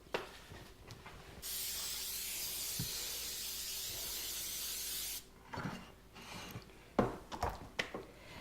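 Cooking spray hissed onto a baking dish in one steady continuous burst lasting about four seconds, close and fairly loud, followed by clattering handling noises.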